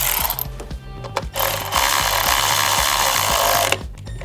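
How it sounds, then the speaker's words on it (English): An electric ratchet whirs in short bursts and then runs more steadily, driving a coil pack bolt on a Dodge Grand Caravan engine, close and fairly loud. "before I use my electric ratchet on that, let's make sure this gets started"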